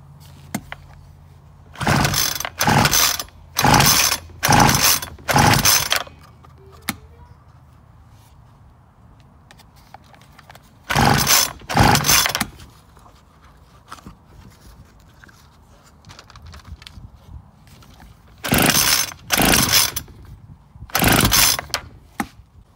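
A Homelite string trimmer that won't start is pull-started repeatedly, with loud bursts of recoil-cord rasping in quick groups of several pulls, separated by quiet pauses and no engine catching.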